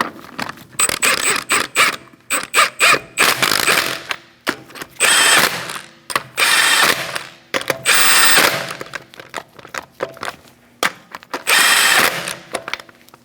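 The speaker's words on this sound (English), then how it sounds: "We're going to tighten up our lug nuts." A hand ratchet tightening lug nuts on a Chevrolet Sonic wheel, loud close bursts of rapid clicking repeated in short runs with brief pauses between, no talking.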